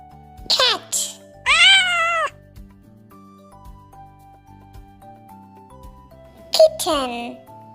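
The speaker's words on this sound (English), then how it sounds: "Cat." A cat meows two or three times, clear and close, with short bright cries at the start and a longer one near the end, separated by soft background music.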